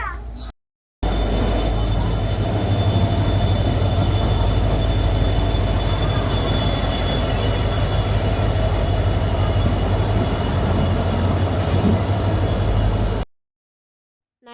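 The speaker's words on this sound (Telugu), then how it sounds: "ట్రైన్ వస్తుంది అని చెప్పి అనౌన్స్ చేశారు" A train pulls into a station after a platform announcement, its steady rumble of wheels and carriages filling the air with faint squeals and clatter, loud and continuous before cutting off at the end.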